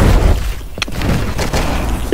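An animated show's explosion power attack blasts out as a loud, rumbling boom with a sharp crack near the middle and sustained roaring energy around it.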